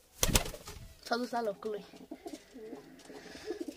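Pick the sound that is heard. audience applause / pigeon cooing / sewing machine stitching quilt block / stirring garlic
pigeon cooing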